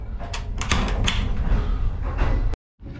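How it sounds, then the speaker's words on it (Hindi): A train carriage door on the Green Line Express slides shut, rumbling and rattling for a couple of seconds before ending in a sharp slam that cuts to brief silence, then the train's noise returns. "तो सर, हम दरवाज़ा बंद कर देते हैं क्योंकि डिपार्चर जो है वो हो चुका है।"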